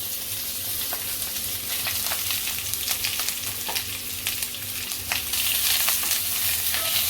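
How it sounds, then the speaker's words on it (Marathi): Chopped capsicum and onion sizzle in a little oil in a pan over medium heat, a loud continuous frying hiss broken by scraping tosses and stirs, with no voices. "तर मिडियम गॅसवरती असं चांगलं टॉस करून घ्यायचं आहे ते भाज्या"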